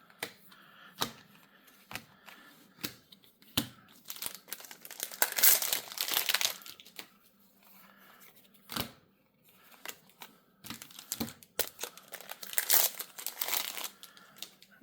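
Foil Weiss Schwarz Frieren booster pack wrappers being ripped open one after another, with sharp crinkling tears and rustling foil in bursts, separated by brief quieter pauses, close and fairly faint.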